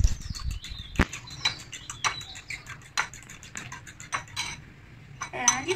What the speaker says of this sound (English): for stirring the egg